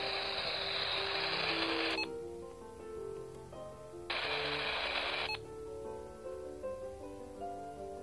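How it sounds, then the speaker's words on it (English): Realistic Radio Shack Pro-46 handheld scanner stepping through programmed channels, bursts of static hiss alternating with quieter stretches of faint electronic tones and clicks, steady and close. "So now it'll scan the 800 and 956 range."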